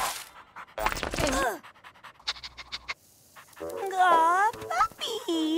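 A cartoon puppy pants rapidly and lets out high, wavering whimpers and yips, mixed with excited voices speaking nearby.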